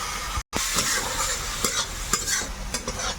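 Spice paste fries with a splash of water in a pan, a constant crackling sizzle broken by repeated scraping stirs and one brief cut-out, fairly close.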